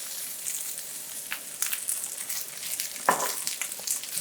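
Mushrooms frying in oil in a pan give a steady close sizzle and crackle, with a few sharper pops and stirring scrapes, continuous throughout and without talk.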